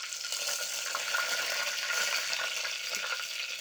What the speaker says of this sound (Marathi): आता टाकूया कढीपत्ता.